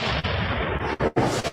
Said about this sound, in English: Fire the cannons as we shall.